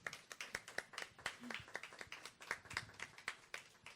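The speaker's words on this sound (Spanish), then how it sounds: "Un aplauso antes que nada." Sparse, faint applause at a book presentation, a small audience clapping with distinct individual claps in an irregular rhythm, fairly distant and quiet.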